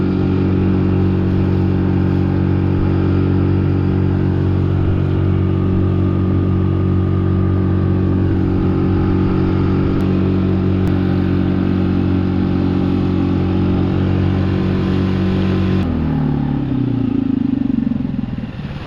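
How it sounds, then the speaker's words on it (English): A fast outboard motor drives a plastic jon boat underway, a loud, steady droning engine hum with water rush that holds level throughout, then drops in pitch as the throttle eases near the end. "Wow, this motor has really transformed this boat."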